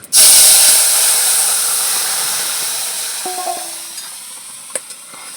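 Chopped bottle gourd is poured into hot spiced oil, setting off a sudden, loud burst of sizzling that slowly fades, with a few small clinks and taps near the end.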